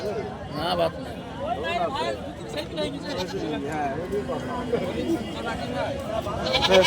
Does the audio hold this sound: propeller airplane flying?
no